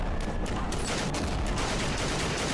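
Sustained automatic gunfire in the Ravenfield video game, with a dense, continuous burst of rapid shots laid down as suppressing fire over a steady loud roar.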